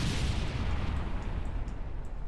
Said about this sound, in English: Just heard a rocket blow up somewhere